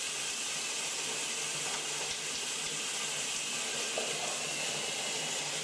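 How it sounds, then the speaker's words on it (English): Leaking urinals in a run-down truck stop toilet block send water in a constant, fairly loud hiss and trickle that fills the room without a break. "Every single urinal was leaking."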